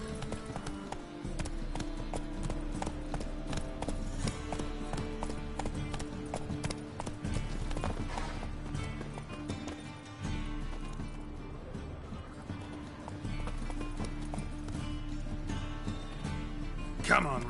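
Roach the horse gallops in The Witcher 3 on PS5, a steady drumming of hooves running on and on under a constant music bed, with a voice speaking over it.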